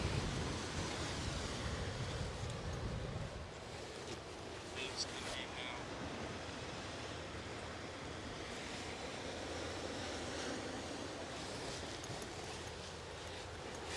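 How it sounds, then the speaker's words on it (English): Ocean waves rolling onto the shore at sunset in Cangas, Galicia, a continuous broad surf roar mixed with wind buffeting the microphone, steady throughout with no clear breaks between sets. "We'll just stay and enjoy the waves coming in now."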